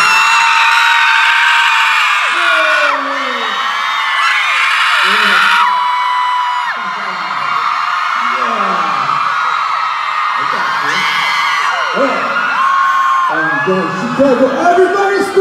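A concert crowd in Chicago screams, whoops and cheers loudly and continuously for the whole stretch, with swells of massed yelling and a few high shrieks rising over the roar.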